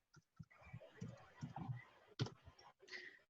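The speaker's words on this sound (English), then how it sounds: "And I can type in this search box at the top" Keys tapped on a computer keyboard while entering a search term into a site's search box: a quiet, irregular run of soft clicks with small pauses, one sharper keystroke standing out, close and alone.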